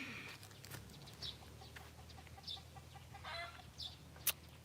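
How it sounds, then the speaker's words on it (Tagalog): Backyard chickens in a fenced rural yard let out several short, scattered clucks, faint and somewhat distant over a quiet background with no talking. "Ayun yung ating mga manok, oh, manok."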